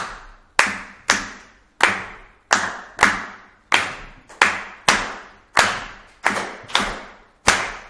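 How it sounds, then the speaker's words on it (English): A single person claps a syncopated Brazilian choro rhythm by hand: sharp, close, dry claps in an uneven, off-beat pattern of about fourteen hits, alone with no talk. "So I'm going to clap this now, and then please join in with me."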